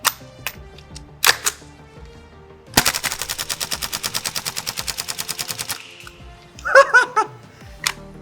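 A KWA airsoft gun empties a magazine in rapid, evenly spaced full-auto shots lasting about three seconds. A few sharp single clicks come before the burst, and a brief flurry of clattering sounds follows it.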